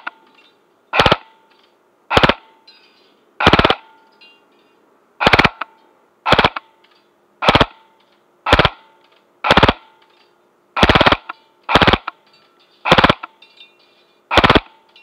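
Double Eagle Honey Badger M904G airsoft gun firing in full auto, about a dozen sharp, snappy cracks in short bursts with brief pauses, loud and close with no talk.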